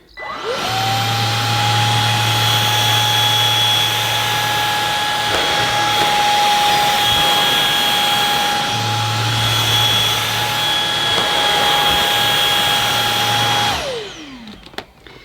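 Samsung Jet 90 Pro cordless stick vacuum running on carpet, a loud steady motor whine with a brushbar rumble that drops in and out as the head moves, spinning up at the start and winding down at the end.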